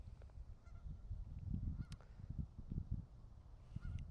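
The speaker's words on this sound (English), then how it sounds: "This one single geese back there is making noise" One goose honks off in the background, brief faint calls at irregular intervals over low ambient rumble and rustle.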